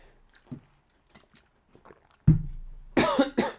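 A few quiet rustles, then a close cough followed by two harsh, loud coughs in quick succession.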